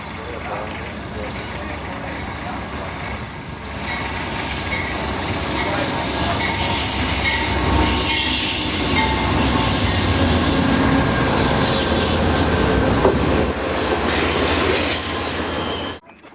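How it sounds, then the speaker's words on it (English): Coast Starlight passenger train pulling out of a station at Klamath Falls, with steady rumbling wheels, clickety-clack over rail joints and occasional squeal building after a few seconds, close and loud, then cutting off near the end, with a voice speaking over it. "soon the Coast Starlight pulls out of the station."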